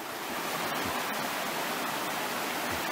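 Creek water flowing steadily during salmon spawning season, a close, continuous rushing and splashing hiss without pauses or voices.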